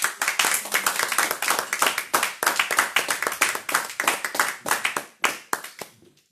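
A church congregation claps in unison to acclaim the Lord at a worship service, loud, fast rhythmic hand claps filling the room for several seconds before tapering off and stopping.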